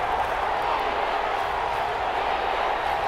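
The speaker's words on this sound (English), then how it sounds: "And this crowd urging on their defense." Stadium crowd at an Atlanta Falcons versus New Orleans Saints game in Madden NFL, a steady loud roar of fans making noise to urge on the defense, continuous with no distinct claps.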